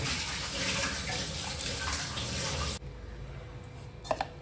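Water rinsing out a mixer grinder jar after grinding masala paste for chickpea kurma, a steady splashing pour that stops abruptly, followed by a few light clinks.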